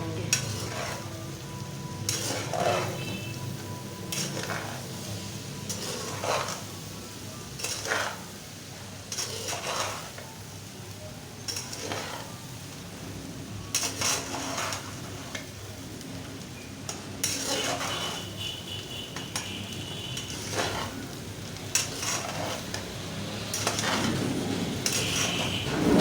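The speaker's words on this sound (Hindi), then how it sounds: "अब हम इसमें चावल डालते हैं अपने बॉयल किए हुए। और इनको अच्छी तरह से मिक्स कर लेंगे।" Boiled rice is stirred into pulao in a pot with a spoon, producing repeated scraping and clanking of metal on the pot over a soft, continuous sizzle.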